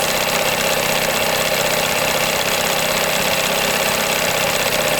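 A 1982 Evinrude 9.9hp long-shaft outboard motor idles steadily and loudly, a continuous rough droning rumble, bogging down slightly, with no change in pace and no voices.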